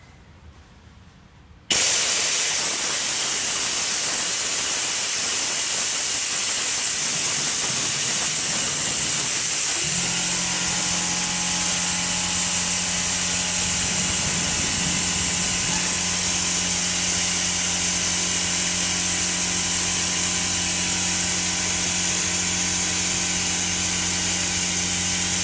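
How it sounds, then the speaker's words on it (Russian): An air compressor starts abruptly and runs continuously, a loud steady hiss with a mechanical hum that settles into a constant drone, powering an express oil change on a 2014 Range Rover Sport 3.0. "Включаем компрессор, сейчас он будет шуметь"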